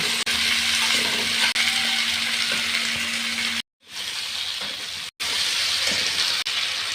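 Fish sizzles steadily in a frying pan of hot oil, a loud continuous crackling hiss with a couple of abrupt brief cutoffs partway through.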